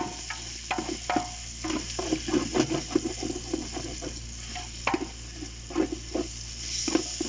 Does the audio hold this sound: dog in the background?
no